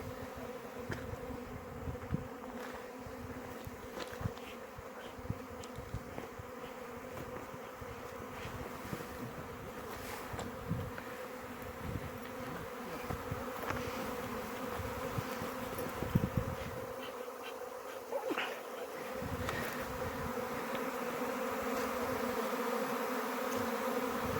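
Honey bee swarm buzzing steadily in a quince tree outdoors, a dense continuous drone of many bees up close with occasional louder passes near the listener, no talk.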